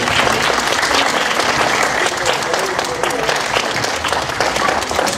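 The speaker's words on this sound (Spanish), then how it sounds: "Un aplauso para ellos, por favor." Applause for the teachers at an inter-school taekwondo championship in Ventanilla, a broad, even roar of many hands clapping that carries on steadily throughout, loud and close.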